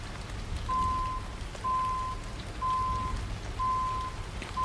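Steady rain falls in American Truck Simulator while a bright red tarpaulin trailer is hauled, a constant wash of drops paired with a repeating beep at an even pace of about one per second, with no voices.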